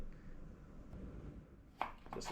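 Knife slicing peeled carrots on a cutting board, a couple of quick crisp cuts near the end after a quiet stretch, close and clear.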